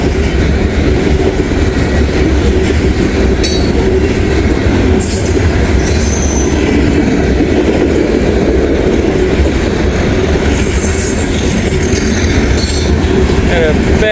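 A grain freight train rolls past close by, a steady loud rumble of wagons with rail clatter and brief wheel squeals high above, continuous throughout with no break.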